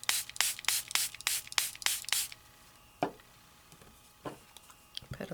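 About eight quick hissing bursts from a spray bottle misting water onto paper in a steady rapid rhythm, close and fairly soft, followed by a pause and a couple of isolated light taps and a final short spritz.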